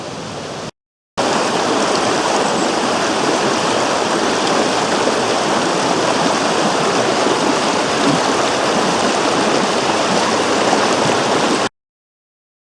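Loud, steady rush of East Fork Dickey Creek, a flowing mountain creek in Montana's Great Bear Wilderness, heard up close and continuous after a brief gap at the start.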